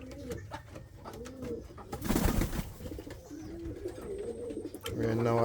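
Pigeons in a breeding loft coo repeatedly at close range, soft rolling calls recurring through the clip, with a voice talking nearby.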